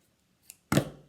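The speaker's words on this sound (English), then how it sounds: "So now you can trim off your ends." Scissors snip through the yarn ends of a freshly wound pom-pom, a small click followed by one louder, close cut that fades quickly.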